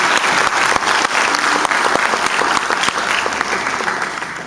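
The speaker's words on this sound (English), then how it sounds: "Jude, give Jude a round of applause" Audience applause for Jude, a young boy volunteer at a Zombie Science show, a dense, steady burst of many hands clapping that carries on throughout and tapers slightly at the end.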